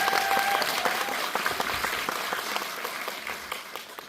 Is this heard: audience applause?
yes